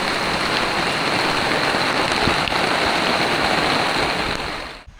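Steady, dense rain falls at Tanarasa Campground in Batu, a continuous close hiss of drops drumming on surfaces that runs unbroken before cutting off abruptly at the end.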